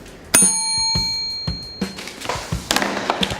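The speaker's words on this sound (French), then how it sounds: "on sonne la cloche comme à l'école" A bell rung like a school bell gives a bright metallic ding with a long ringing tail, followed by several clanks and knocks of handling, loud and close.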